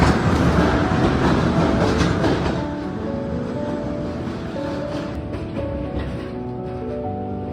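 A train on Vietnam's North–South railway pulling into Quang Ngai station, loud rolling wheel clatter that eases into a slower, quieter rumble with tonal squeal as it brakes.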